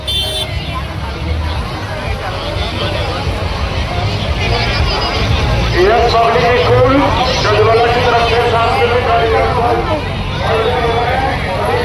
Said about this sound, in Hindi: बहुत भीड़ हो रही है भाई साहब, बहुत ज़्यादा।